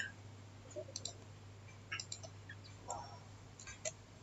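A computer mouse clicking several times at spaced intervals, faint and close, over a low steady electrical hum with no talking.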